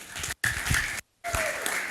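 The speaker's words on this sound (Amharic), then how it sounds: "አጨብጭቡ ለጌታ።" A church congregation claps together in a short burst of quiet applause, broken by brief gaps.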